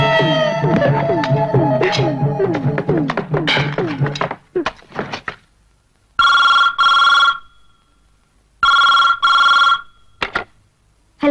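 A telephone bell rings loudly and close by in two long bursts, then a short third ring. Voices and other sounds come just before it, and silent gaps fall between the rings.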